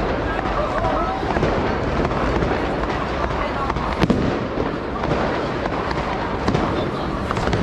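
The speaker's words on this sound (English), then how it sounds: "we've got the fireworks going on as well" Fireworks bursting during a New Year celebration in Poland, near a Christmas market and tree, give a dense, continuous crackle and rumble with one sharper bang, while crowd noise and voices run underneath.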